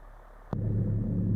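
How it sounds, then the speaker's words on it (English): A click gives way to a steady low engine drone picked up through a noise-canceling headset microphone, constant and moderately loud for the remaining second. "So there's a little bit of engine noise in the background."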